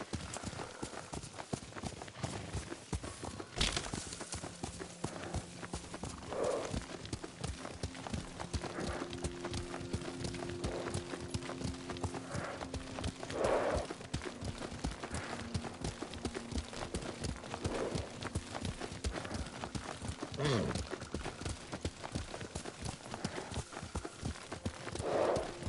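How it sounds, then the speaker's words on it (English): Horse hooves clip-clop in a steady, continuous rhythm while riding in Ghost of Tsushima, with occasional snorts and whinnies, the riding sounds kept fairly quiet under the game's ambience. "Lord Sakai taught me to ride a horse."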